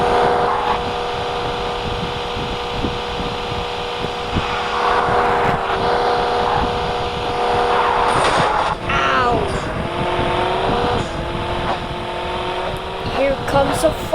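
Race car engine drones steadily while drifting through corners in the arcade racing game Horizon Chase 3, with a continuous whine and tire slides rising and falling over background game music; no speech is heard.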